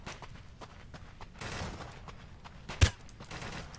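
Gunfire in the survival shooter Deadside, distant bursts of rapid shots with one sharp loud crack near the end, faint and unaccompanied by talk.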